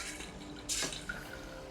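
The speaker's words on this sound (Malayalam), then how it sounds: "ഇനിയിപ്പോൾ പയറിന് ആവശ്യമായിട്ടുള്ള വെള്ളം അങ്ങോട്ട് എടുക്കുന്നു." Water is poured into a pressure cooker holding lentils, a brief soft splash of under a quarter second amid quiet kitchen background, with a small drip just after.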